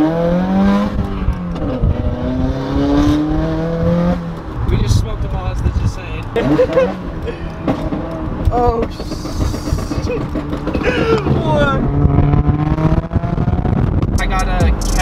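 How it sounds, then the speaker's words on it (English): A Subaru WRX fitted with a catless downpipe and a Tomei exhaust revs up and down in rising and falling sweeps, loud and near. People talk throughout over the engine. "I got a catless downpipe and a Tomei dog exhaust."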